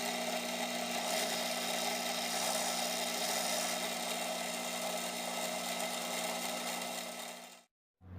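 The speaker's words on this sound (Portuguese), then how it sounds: "Agora eu vou passar uma broca de 4 mm," A power drill boring a 4 mm hole in metal while building an electric scraping machine, running as a steady close whine with a constant hum for about seven seconds before stopping abruptly.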